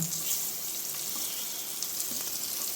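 Ladyfish pieces frying in a pan, a steady close sizzle of hot oil with a bright hiss and small crackles running unbroken throughout.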